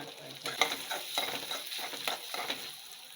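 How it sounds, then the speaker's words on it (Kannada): Cumin seeds frying in hot oil for raw mango rice, a close, crackling sizzle with irregular popping and spatula stirring, no talk. "ಎಣ್ಣೆಯಲ್ಲೇ ಸ್ವಲ್ಪ ಇದೆಲ್ಲ ಫ್ರೈ ಮಾಡ್ಕೊಳ್ಳೋಣ ಈಗ ಇದಕ್ಕೆ ಕಾಸ್ಪೂನ್ ಆಗುವಷ್ಟು ಜೀರಿಗೆ ಹಾಕ್ಕೊಳ್ತಾ ಇದ್ದೀನಿ"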